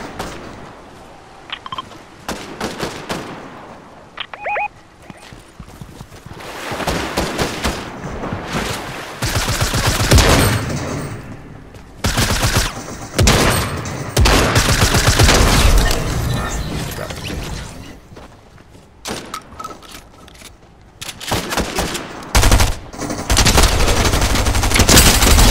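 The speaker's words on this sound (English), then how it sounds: "I'm being shot by somebody else." Rapid gunfire aimed at the player in Fortnite, loud sustained bursts and machine-gun volleys with brief pauses, close and dominant throughout.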